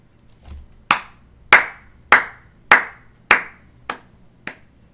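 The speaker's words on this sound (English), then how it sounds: "Adds clap for Pepengu." Stream alert clapping sound effect: about eight sharp, evenly spaced hand claps, loud and close, with the last two lighter.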